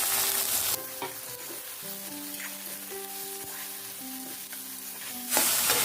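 Continuous crackling sizzle of onion and tomato frying in a pan, louder at the start and end, with a faint tonal hum underneath and no speech.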